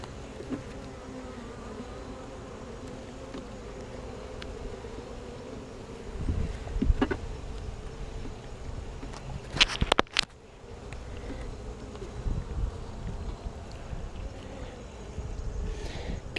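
Honeybees hum steadily in close, soft buzzing during a beehive inspection, with a brief knock and rustle of frame handling partway through.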